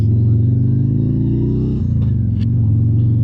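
A 2024 Harley-Davidson Road Glide motorcycle carries a passenger, its engine rumbling loud and steady, with a quick dip in pitch as it shifts gears before the deep drone settles again.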